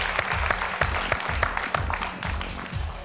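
A studio audience at a televised singing competition gala show claps in a dense, continuous burst, with sharp individual claps standing out over the crowd's steady roar.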